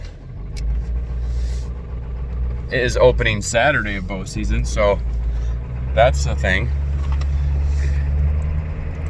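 Pickup truck hauling a four-wheeler in the back, its low road rumble and engine drone continuous under someone talking in the cab.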